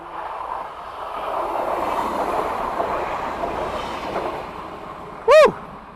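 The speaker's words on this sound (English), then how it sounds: "Oh, here comes the train." A train rushes past on railway tracks in Germany, a broad rumbling roar that builds and holds, topped near the end by a sharp, brief whistle-like squeal.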